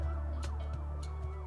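Electronic police car siren from a toddler's vehicle sound puzzle, a quiet wavering wail repeating over a low steady hum.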